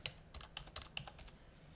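Typing on a computer keyboard, a quick run of light, close key clicks in an uneven rhythm, soft and clear with no voices.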